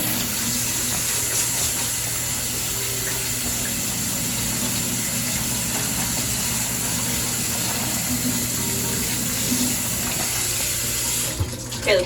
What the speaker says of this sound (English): Rinse them until the water runs basically clear.